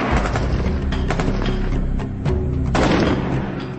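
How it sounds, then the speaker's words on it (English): An M16 rifle fired in field trials makes a rapid string of booming, distorted shots that sound close and loud. Several cracks come in quick succession, then one heavier blast. "How would the weapon perform in field trials?"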